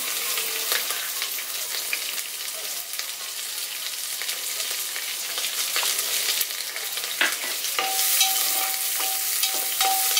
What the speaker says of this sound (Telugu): ఇది కూడా కొంచెం వేగనిచ్చిన తర్వాత ఉల్లిపాయలు, పచ్చిమిరపకాయలు వేసుకోవాలి